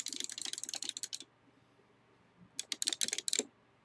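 Buttons on a PXN arcade fightstick clatter in quick, crisp bursts of clicks, a dense run of presses, a short pause, then another rapid flurry close up, with no talking.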